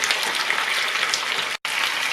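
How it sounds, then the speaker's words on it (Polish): Pork ribs sizzle and spit steadily in a hot frying pan, a dense crackling hiss with a brief gap near the end. "I teraz tak samo drugą stronę będę obsmażać, żeby się ładnie zrumieniło."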